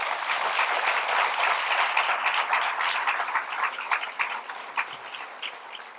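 An audience at an evening keynote event applauds to welcome Dan Hesse, with dense sustained clapping that gradually thins into scattered claps toward the end.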